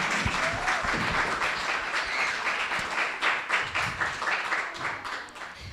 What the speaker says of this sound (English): Let's give a round of applause for the judges as well.